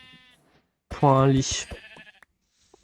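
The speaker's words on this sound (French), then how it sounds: "Et je vois des moutons là-bas." A single sheep bleat from the video game Minecraft, loud and near and lasting about half a second, with people talking around it.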